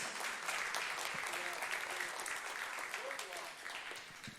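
A church congregation claps together during a sermon, a fairly quiet, dense and continuous patter of many hands that persists throughout with faint voices mixed in.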